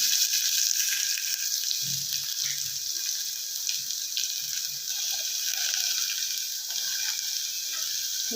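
Sliced onion goes into hot oil with curry leaves for instant rava paddu, giving a steady close sizzle of frying with faint spoon and stirring clinks, no one speaking.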